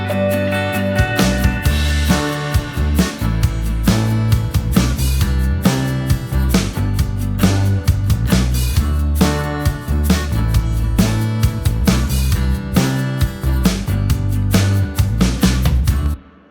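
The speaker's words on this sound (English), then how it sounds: "just the basic drums, the bass, the guitars" An indie folk verse plays steadily with a driving drum beat, bass, strummed guitars and shaker, full and loud, then cuts off abruptly at the end.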